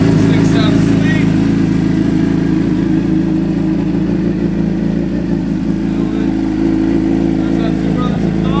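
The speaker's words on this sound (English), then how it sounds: "There's that Two Brothers exhaust." A 2006 Suzuki GSX-R 750 fitted with a Two Brothers exhaust idles close by with a steady, deep, loud burble, and someone talks briefly over it.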